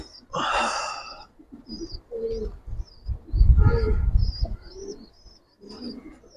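Giribaj pigeons coo in soft, low throaty bursts, several calls spaced irregularly and close by, with faint chirps and a brief rustle between them.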